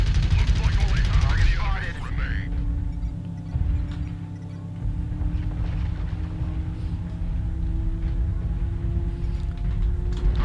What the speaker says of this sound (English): But that's where the 5 machine guns come in.